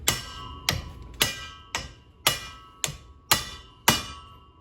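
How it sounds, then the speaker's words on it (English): A hammer strikes a socket held against a U-joint cap on a 1977 Chevy Camaro, seven sharp metallic blows at a steady rhythm, each ringing briefly with a bright, bell-like decay, close and alone. "you're gonna put it on there, and then you're just gonna hit it with a hammer"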